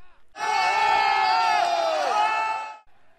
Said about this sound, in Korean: 한 청년이 차량 번호판을 떼어낸 뒤 지붕에 올라타 춤을 추자 환호성이 터져나옵니다